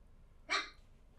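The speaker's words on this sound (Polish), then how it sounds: "O, piesek się odezwał." A single short dog bark rings out in The Witcher video game, one clear yelp against a quiet, dark ambient background.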